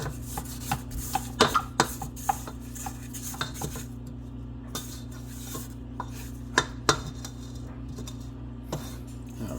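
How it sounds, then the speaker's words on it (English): A spatula scrapes sweet potato pound cake batter down the sides of a mixing bowl, giving close, repeated scraping and light clinking strokes over a steady low hum. "About 3 minutes in, we're gonna go ahead and scrape it down."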